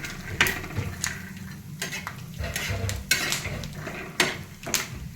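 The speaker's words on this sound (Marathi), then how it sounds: "शेंगदाणे चांगले लाल होतात भाजायची तेलामध्ये" Peanuts roast in oil in a pan for a cauliflower curry, with repeated stirring scrapes and clinks against the pan over a soft, steady sizzle, close and fairly loud.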